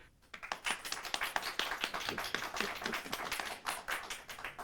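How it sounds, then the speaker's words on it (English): A small workshop audience claps for an animated pitch, distinct fairly close individual claps in a quick uneven rhythm, no talking. "We're gonna get some applause."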